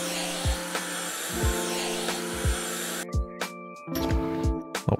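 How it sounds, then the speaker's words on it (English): A squeegee vacuum cleans a window in House Flipper, giving a steady whirring hum broken by repeated soft thuds as strokes pass, roughly one per second, close and constant. "It's a squeegee vacuum."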